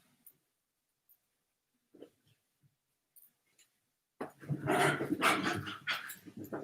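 A dog in a film scene starts barking and growling loudly and close, a dense burst of repeated barks after a few seconds of near silence broken by faint small knocks.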